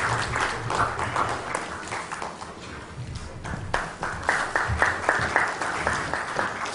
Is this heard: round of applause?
yes